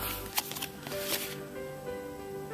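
Dungeons & Dragons treasure cards for the Madness at Gardmore Abbey box being handled, a few quick papery shuffles and flicks close by with soft rustling between them.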